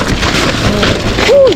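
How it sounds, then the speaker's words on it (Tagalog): Rain falls outdoors during a dumpster-diving outing as a loud, steady hiss that fills the whole moment. A brief tonal squeak sounds near the end. "Grabe, umuulan. Umuulan."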